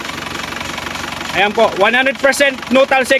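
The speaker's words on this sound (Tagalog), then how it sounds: "Yan o, na ganyan po yung tunog ng makina nyan." An Isuzu Crosswind with a 2.5 diesel engine idles with a steady, close clatter and rhythmic knock, while someone talks over it for much of the time.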